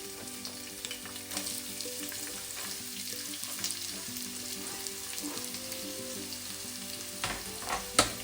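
Sliced onions sautéing in hot oil in a pan for Kerala-style onion rice, a steady bright sizzle with occasional stirring scrapes, close and continuous, ending with a sharp clink.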